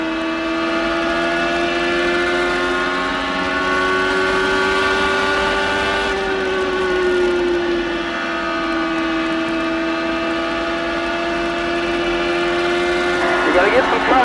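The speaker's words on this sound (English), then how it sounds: "let's crank it up and listen to full throttle champ car action" Champ Car race cars at full throttle at the Milwaukee Mile oval, a loud sustained high engine wail with shifting pitch as cars pass, under crowd and broadcast ambience.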